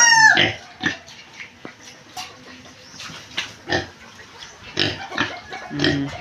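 Pigs on a farm grunt and oink in scattered bursts, some close and loud, one sharp squeal at the start, with a few fainter snorts and shuffling between calls.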